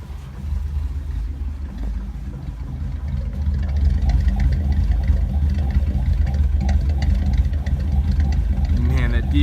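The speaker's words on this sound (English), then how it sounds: "Let's go ahead and hear that exhaust in the back." A 1956 Ford Fairlane Victoria idles from its rear exhaust with a deep, steady low rumble that grows slightly louder midway, heard close up with faint background noise.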